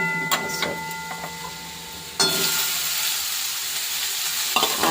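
Pumpkin greens fry and get stirred in a pan, a steady sizzle with occasional scraping clatter near the start, then a louder burst of hissing as more greens hit the hot oil about halfway through.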